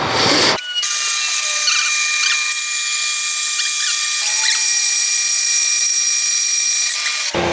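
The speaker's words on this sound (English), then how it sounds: "I'm going to go cut this piece and cut this tab out" A power tool cuts a metal tab for Harley Dyna custom floorboard mounts, a loud steady whine running nearly nonstop after a brief start, alone with no talking.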